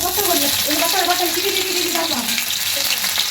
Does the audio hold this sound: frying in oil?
yes